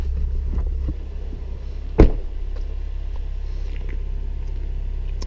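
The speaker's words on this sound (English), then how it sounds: "Let's take it for a drive and see how she goes." A 2016 Volvo XC90 SUV on the move, giving a steady low road and engine rumble throughout with a soft thump near the middle and faint cabin clicks, no talking.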